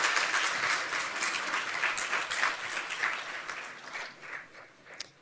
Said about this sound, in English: Go ahead and applaud that, please.